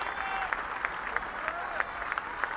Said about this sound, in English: The roar from this area swells up and is heard all over this golf course.